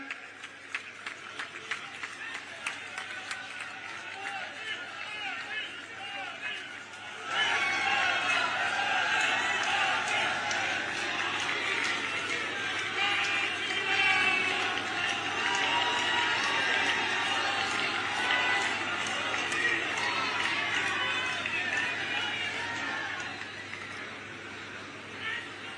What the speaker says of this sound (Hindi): आदरणीय प्रधानमंत्री जी और आदरणीय अध्यक्ष जी का मंच पर जोरदार तालियों से हम स्वागत कर रहे हैं